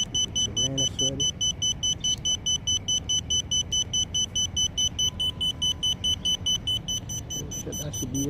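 A rapid, regular series of high electronic beeps from an FPV drone starting up on OpenTX repeats steadily throughout, with brief low voices talking underneath at the start and end.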